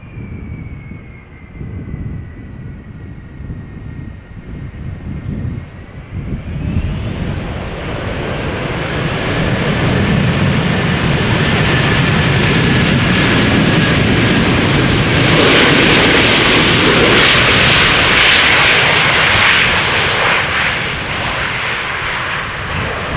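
A 16-year-old airplane, first flown in July 2007, passing at Schiphol Airport, starting with a distant engine whine and swelling into a loud, broad roar that holds steady near overhead, with wind buffeting the microphone.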